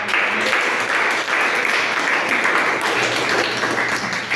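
Church congregation applauding together during a Pentecostal-style service, a steady dense wash of clapping that holds evenly for several seconds without a break.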